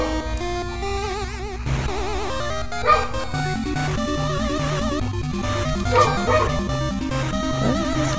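Dog barks from the video game Mother 3, several short chiptune yips over the game's steady background music, with no talk.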